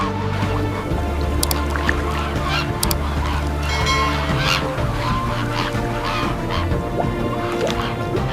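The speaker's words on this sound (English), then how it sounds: "Pink flamingos sift rose-tinged pools with unhurried grace." Pink flamingos on salt pans honk and call in a dense, continuous goose-like chorus, many birds overlapping, loud and close with a few sharper calls standing out.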